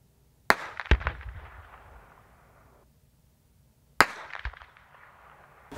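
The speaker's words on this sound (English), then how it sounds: "you guys are gonna get to hear what it sounds like to get shot at by 50, both suppressed and unsuppressed" .50 caliber rounds passing overhead at a range of about 1,000, one unsuppressed and one suppressed: two sharp cracks about three seconds apart, each followed by a rolling, fading boom and echo, loud and alone.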